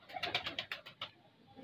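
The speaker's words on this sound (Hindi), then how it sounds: "साजी ये कबूतर कब से हैं आपके पास?" Soft, repeated cooing of Salati high-flying pigeons in a quick series of throaty notes, fairly close, then a brief pause with faint rustling.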